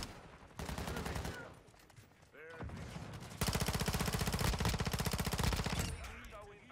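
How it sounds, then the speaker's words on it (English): Rapid automatic gunfire from a PDSW submachine gun in Modern Warfare 2, loud bursts with a short pause, then a long sustained stream of shots with spent-shell clinks and game effects. "I was just shooting bro's foot."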